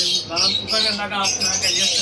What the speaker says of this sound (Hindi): अच्छा हामिद भाई, माशाल्लाह तोतों का तो इतना बड़ा सेटअप रखा हुआ है कि ऐसा लग रहा है कि खास तोतों की दुकान है